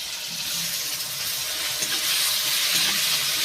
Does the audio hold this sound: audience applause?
no